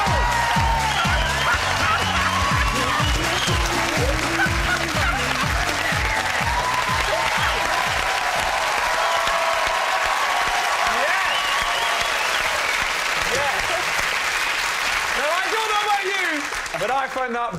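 A television studio audience claps and cheers at a panel comedy show, loud sustained applause that fades gradually over the span, with voices talking above it and a few rhythmic thumps early on.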